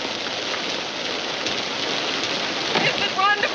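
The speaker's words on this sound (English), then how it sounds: "I always had sense enough to come in out of the rain." Steady rain falls in a 1940 drama scene, a dense, even hiss throughout with a few faint tonal chirps near the end.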